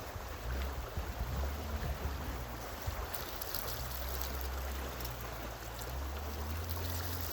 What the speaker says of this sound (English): Just the process of pouring the water in.